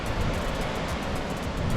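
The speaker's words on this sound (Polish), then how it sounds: "Takie plaże, fale, serwerzy," Ocean surf rolling onto a beach on Portugal's Algarve coast, a steady broadband wash of breaking waves with some wind noise, continuous and fairly close, with no talk.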